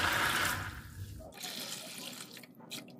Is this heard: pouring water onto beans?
yes